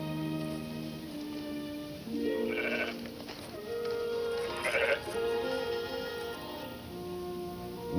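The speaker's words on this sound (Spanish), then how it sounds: "cabra montes" A wild mountain goat bleats in a 1960 film about the biblical David, giving a few drawn-out, wavering cries over a steady background of film sound, fairly close and clear.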